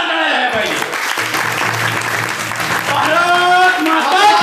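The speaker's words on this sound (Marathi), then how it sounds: "एकदा या जवानांसाठी जोरदार टाळ्या झाल्या पाहिजे" A crowd at a Marathi devotional gathering claps for soldiers in dense, ongoing applause, while a voice speaks and calls out over it near the microphone.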